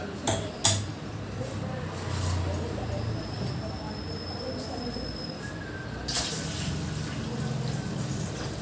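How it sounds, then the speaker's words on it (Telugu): Water is poured into a pan while making sheer khurma, a faint, steady splashing hiss in a home kitchen, with a couple of sharp utensil clinks near the start and another around six seconds. "కొన్ని వాటర్ కూడా పోసుకున్నా"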